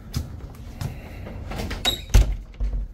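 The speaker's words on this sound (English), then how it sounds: "Close the door." A door is pushed shut indoors, giving a few soft knocks and rattles, then a sharper thud of the latch closing, followed by light shuffling; no one speaks.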